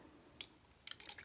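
Quick spritzes from a spray bottle of water mixed with about 10% coffee onto paper, two or three short, close, hissing bursts with soft wet dabs between them in a quiet room.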